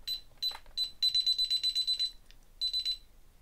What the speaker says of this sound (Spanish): Vamos a conectar la alarma